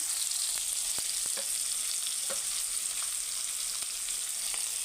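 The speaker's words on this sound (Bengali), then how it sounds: "এটা হালকা করে অল্প ভেজে নেব" Boiled potatoes with turmeric, onion and salt frying in a pan make a steady bright hiss with a few faint ticks and clicks scattered through, close up and without talk.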